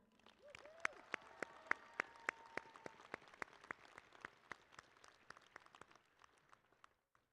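A graduation audience claps after the national anthem, a sparse, faint round of distinct hand claps in a large hall, with a brief voice at the start before the clapping fades out.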